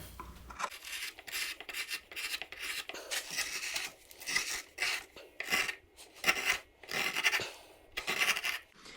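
Gouge strokes carve a wooden spoon, each cut a short rasping scrape, repeated in an uneven rhythm of close, crisp shavings with brief pauses between.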